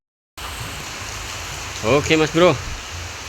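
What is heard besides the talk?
rain falling outdoors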